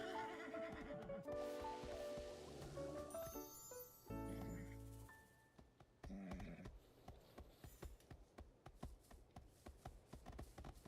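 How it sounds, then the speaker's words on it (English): A large horse in the video game Infinity Nikki gives a loud whinny that rises and falls over the first few seconds, amid game music and chimes, followed by a run of light rhythmic taps like hooves. "There's a big horse."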